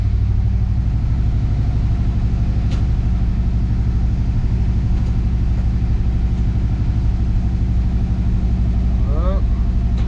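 The engine of a 1966 Chevrolet C10 pickup runs at a steady, throbbing idle, loud and close, with a brief faint voice near the end.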